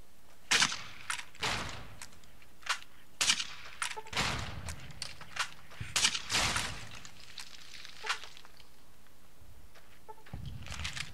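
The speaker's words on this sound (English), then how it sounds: "Mercenary grenade rifle." Mercenary grenade rifle firing in Fallout New Vegas, a series of sharp, loud blasts and bursts at irregular intervals with some trailing rumble, several explosive hits clustered close together amid quieter gaps.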